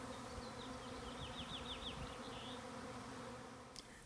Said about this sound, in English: If you ever see the bees like this, they are very calm